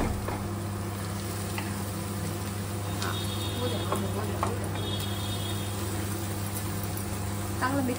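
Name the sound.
sautéing pav bhaji mixture in butter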